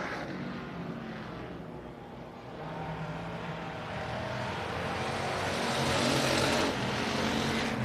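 Race cars at Texana Raceway Park roaring around the oval on the final lap, engines droning steadily and swelling louder toward the end as the pack passes near.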